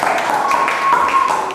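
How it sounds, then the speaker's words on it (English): Classroom applause for a group of students, a short burst of scattered clapping from a small group of children, close and fairly loud with a faint tone running underneath. "Give applause to this group."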